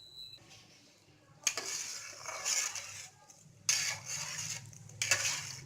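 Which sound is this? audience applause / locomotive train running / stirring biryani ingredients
stirring biryani ingredients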